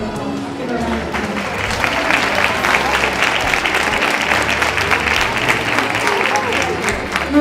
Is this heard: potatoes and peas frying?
no